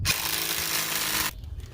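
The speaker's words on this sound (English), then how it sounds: "you're just going to want to suck these wheel studs in. I'm just using an impact." An impact wrench drawing wheel studs into a C5 Corvette front hub whirs in a single continuous burst, close and fairly loud, then cuts off abruptly into quiet.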